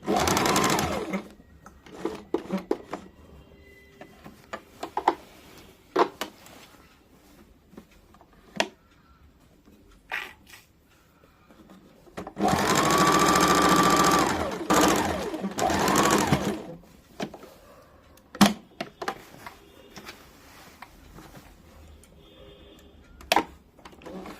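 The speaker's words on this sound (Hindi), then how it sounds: "अब साइड वाले हिस्से में भी एक सिलाई डाल देंगे।" A sewing machine stitches the side seam of a kurti, starting and stopping in short bursts with clicks and ticks between them, then running in one sustained whir of a few seconds before more brief, sharp mechanical clicks.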